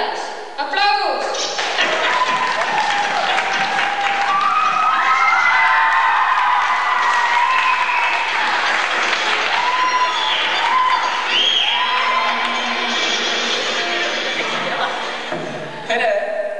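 A large crowd at a 2004 competition event in Paldiski, Estonia, cheers and applauds continuously for many seconds, with shouting and whoops rising above loud, sustained clapping and voices mixed in.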